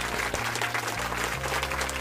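A crowd claps continuously, a dense even patter of applause throughout.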